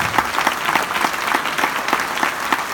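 Audience at a conference in Castelmaurou applauds a series of testimonials, a dense, even patter of many hands clapping at close range that holds steady throughout.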